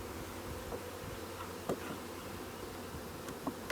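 A steady, faint hum of many honeybees buzzing close by, with a few soft clicks and knocks now and then.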